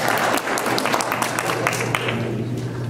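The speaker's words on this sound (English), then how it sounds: "Please hold your applause." Loud, dense applause from an audience at a mayoral forum, a continuous wall of clapping with a few sharper individual claps standing out near the front.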